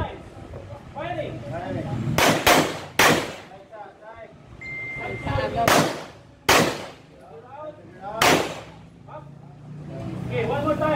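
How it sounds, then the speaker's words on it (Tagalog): Five sharp gunshots ring out during a live-fire shooting exercise, fired in pairs and singles with gaps between, loud and close over steady outdoor background noise and people talking. "Shoot 2 times. Firing."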